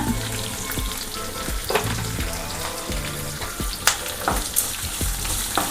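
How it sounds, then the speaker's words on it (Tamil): Sliced onions frying with a little salt in a pan, a continuous close sizzle broken by scraping stirs and occasional clinks of the spatula. "நல்ல வெங்காயம் வதங்கட்டும் கொஞ்சமாக உப்பு சேர்த்துக்கலாங்க"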